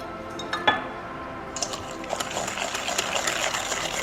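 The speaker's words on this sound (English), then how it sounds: "Take your whisk and you wanna whisk that thing on there." A whisk beats a sugar mixture in a bowl, starting with a couple of clinks and then settling into a fast, continuous scraping and rattling close by.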